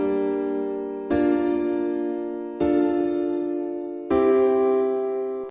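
Epic chord progression of minor 4th, major 6th, minor 5th and major 7th: four sustained, full synth chords, each struck cleanly and left to ring and fade before the next, with nothing else heard.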